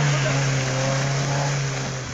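A jeep engine runs hard while driving through a bog, a loud, close, steady droning roar that holds an even pitch for the whole moment.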